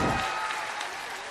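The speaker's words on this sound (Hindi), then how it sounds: "जोरदार ताली हमारे नेताजी के लिए।" Enthusiastic applause from an audience at a school drama, loud clapping at the start that settles into a steady, slightly fading patter.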